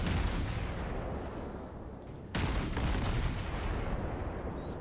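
Warship guns in a naval battle game, with a US cruiser Des Moines engaging a Mogami, fire a sudden heavy salvo midway, a sharp boom over a constant rumble of distant artillery and ocean.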